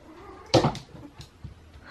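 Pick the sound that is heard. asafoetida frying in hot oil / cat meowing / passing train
cat meowing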